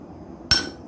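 A single sharp clink of a spoon against a big bowl as chopped potato is added during no-cook food prep, one brief bright knock standing out over quiet room tone.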